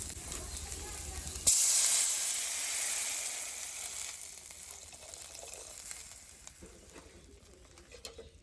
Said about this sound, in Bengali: তো এখন আমি এর মধ্যে জল দিয়ে দেবো